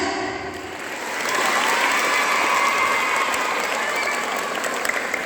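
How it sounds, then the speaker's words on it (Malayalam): School audience at Stella Maris English Medium School applauding, a steady, fairly distant wash of many hands clapping that swells after the first second and holds evenly to the end. "കൈയടിച്ച് ഉന്മേഷം വരട്ടെ."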